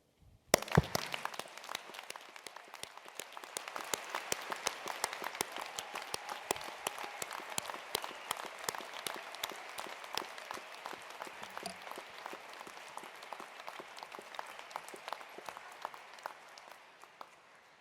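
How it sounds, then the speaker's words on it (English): Hall audience at a University of Edinburgh graduation ceremony breaks into sudden applause for the graduates, a sharp start followed by steady, crisp clapping in a reverberant room that slowly thins out. "I ask my colleagues and supporters to join with me in applauding this wonderful collection of students"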